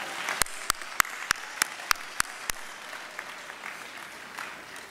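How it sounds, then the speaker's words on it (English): Evening graduation ceremony audience at the UFS campus applauding lecturers and family, a steady wash of clapping with a few sharp individual claps standing out early, thinning slightly toward the end. "So let's give them a round of applause as well."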